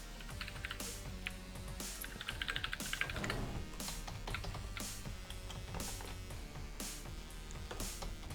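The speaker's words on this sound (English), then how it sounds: "Damn, this is like the loudest keyboard ever." Fast clicky typing on a very loud computer keyboard, close up, with irregular bursts of keystrokes and louder thumps, alone with no talk.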